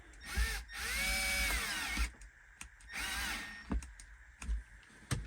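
Battery-powered drill with a weak, dying battery snugging down bolts while a truck is put back together: two whirring runs of about a second each, then several short clicking bursts, fairly close with no talk.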